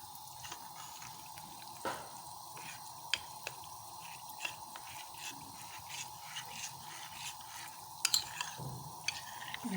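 Cornflour mixed with water being stirred in a kitchen while making chicken and vegetable soup, faint scraping and clinking strokes with occasional sharper taps against the container over a low steady background hum.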